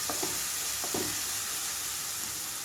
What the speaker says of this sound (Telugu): టమాటా పేస్ట్ని ఇందులోకి వేసేస్తున్నాను